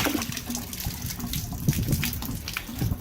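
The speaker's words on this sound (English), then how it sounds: "We're going to take it over to a faucet, get it cleaned out" Tap water runs from a faucet while a water heater part is rinsed clean, a close, uneven splashing and trickling stream with small gurgles over a few seconds.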